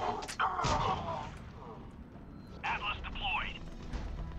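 Mass Effect 3 combat: gunfire cracks and weapon bursts sound out in short sharp hits among electronic sci-fi effects, while a voice talks over the battle.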